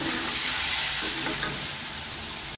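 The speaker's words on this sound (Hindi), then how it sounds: "अब ये तमाम मसाले को हम अच्छी तरह से भूनेंगे" Spices including turmeric powder frying in a pan for brinjal bhurta, a continuous moderate sizzle and hiss that ends with a short clunk.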